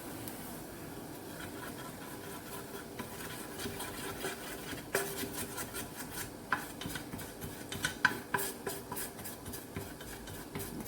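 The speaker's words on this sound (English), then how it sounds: "We're going to stir that in nicely." Coconut oil and charcoal eyeliner mix being stirred in a jar, a soft, continuous scraping and rubbing with occasional sharper clicks of the utensil against the glass, close and fairly quiet.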